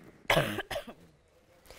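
A single close cough, sharp and loud, followed by a quick throat-clearing rasp.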